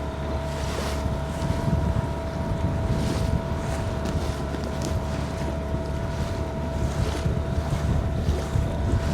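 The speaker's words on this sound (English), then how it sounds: "So we've got the wind on our face now." Steady wind roars across a Honwave T38 boat in Poole Harbour, with constant buffeting over water and motor hum, loud and unbroken throughout.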